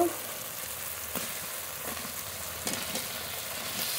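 Potatoes frying with spices in a pan for a paneer dish, a steady close sizzle with faint stirring clicks and no talk.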